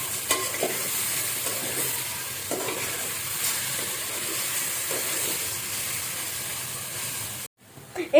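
Marinated chicken frying in a hot pan, a continuous close hiss and sizzle with soft stirring scrapes, ending in a brief cutoff and a sharp clatter.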